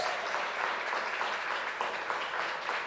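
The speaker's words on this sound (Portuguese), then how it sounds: "aplauda o Senhor" A church congregation applauds during a sermon, a sustained, even wash of many hands clapping, moderately quiet with no talking over it.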